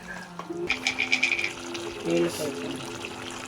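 Water splashes and gurgles as it is poured into a pan of Andhra-style chicken curry, with a short burst of running liquid and clinking in the background.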